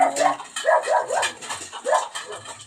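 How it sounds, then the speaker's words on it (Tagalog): A dog barks repeatedly in short, rhythmic bursts, fairly close, with some whimpering yips mixed in. "meron po talaga nagtatanong kung sino yung aso na tumatahol naman"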